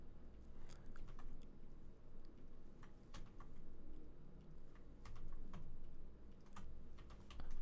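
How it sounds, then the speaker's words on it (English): Rapid, repeated presses of the G key on a computer keyboard, a run of sharp, close plastic clicks at an uneven rhythm over quiet background, with no talk. "I'm pressing G on my keyboard just to repeat them."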